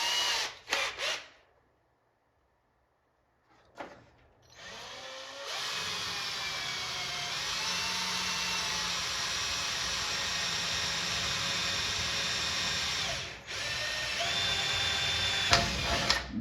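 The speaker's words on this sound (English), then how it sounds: "So now we can get our drill set up with a smaller bit here. Let's start with an 1/8 inch." A power drill with a 1/8 inch bit bores into a 1959 Chevy Impala convertible during assembly, giving a steady, close, high whine for about ten seconds after some brief handling knocks and a quiet pause.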